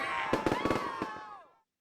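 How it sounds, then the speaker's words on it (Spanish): A cartoonish magic-spell sound effect for a witch: a rapid string of five or six sharp crackling pops like firecrackers over a sweeping whistling tone, ending in a falling whoosh that fades to silence. "Lanza hechizos, crea explosiones"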